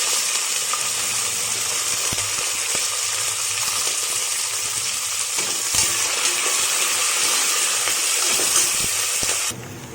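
Steady, loud sizzling and crackling of chillies, chopped ginger and curry leaves frying in hot oil for tomato upma, continuous throughout with faint clinks of a utensil.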